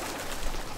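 Birds flutter and coo in Battlefield 4 gameplay, heard as a brief, loud burst that sits within dense, hissing game ambience.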